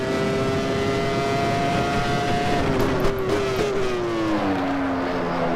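A Peugeot Formula 1 engine from 1996, in a racing sim at Imola, screams at high revs as a loud, steady whine. Its pitch holds, then drops gradually as the car comes off the throttle.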